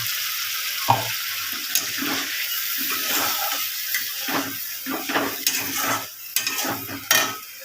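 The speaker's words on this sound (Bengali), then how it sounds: "এই যে জলটা অল্প করে দিয়ে দিয়েছে।" Water splashes into a pan of fried spices for a bhetki fish dish, sizzling and bubbling with uneven bursts and clinks of a utensil against the pan.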